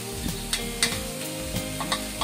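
Onions fry in a pan with a soft, continuous sizzle, punctuated by several light stirring clinks and scrapes at irregular intervals, fairly quiet and close.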